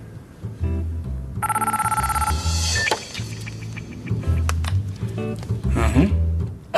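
An indoor telephone gives a close, loud burst of trilling electronic rings, followed by handling clatter and room noise.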